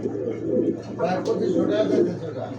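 A pair of Australian doves, one male and one female, cooing softly in repeated low murmurs at a pigeon sale, with background voices and chatter running beneath.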